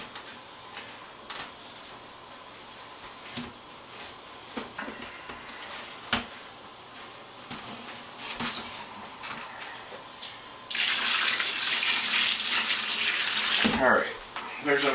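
Water is poured into a pot of peaches being prepared for canning: quiet kitchen handling noises, then a loud, steady rushing pour for several seconds near the end.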